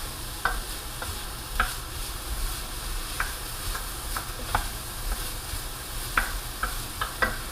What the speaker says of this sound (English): the sausage have browned in the bottom of the pan, and it's going to have a lot of good flavor